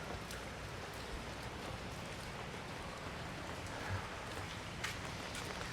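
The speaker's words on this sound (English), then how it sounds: "Rain, rain, rain." Steady rain patters continuously on surfaces in the backstreets of Da Nang, a soft even hiss with a few scattered drips, fairly quiet and with no voices.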